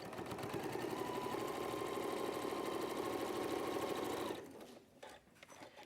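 A sewing machine joins quilt rectangles with a quarter-inch seam, running in a fast, steady, close-up whir for about four seconds before stopping, followed by light handling sounds.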